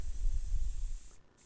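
An airbrush sprays paint onto a model in one steady, close hiss that cuts off abruptly near the end, with a low rumble of air underneath.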